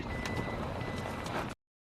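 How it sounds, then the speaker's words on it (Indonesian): A car speeds off in a zombie-film scene with a loud, steady engine roar and rushing noise that stops abruptly after about a second and a half, leaving silence. "Ketika sampai di mobil, mereka langsung tancap gas."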